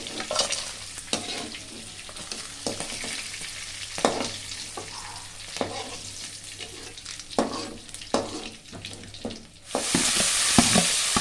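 Onions frying in a pan for a crab fry, a steady close sizzle broken by sharp clicks and scrapes of a spoon stirring, with the frying hiss swelling louder near the end; no talk.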